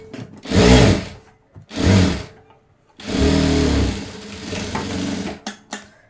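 An electric sewing machine stitches a blouse in several bursts, each a loud rapid whirring run separated by short pauses, close up and with no talking.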